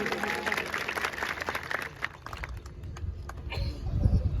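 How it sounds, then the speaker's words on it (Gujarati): An audience at a welcome gathering in Bharandra applauds guests with a brief burst of crowd clapping that dips in the middle and swells again, mixed with background voices. "આપણે બધા તાળીઓથી વધાવી લેશું"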